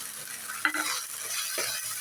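Ground tomato paste goes into spices frying in oil for a Bengali katla fish kalia curry, making a soft continuous sizzle with a brief splattering burst as it lands and a faint utensil scrape, no voices.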